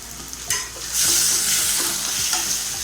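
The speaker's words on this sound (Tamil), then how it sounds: "தக்காளி வெங்காயம் நல்லா வதங்கிடுச்சு" Tomato and onion for a potato masala side dish sauté in a pan, a loud, close, hissing sizzle that swells after a first stir, with low scraping strokes beneath and no talking.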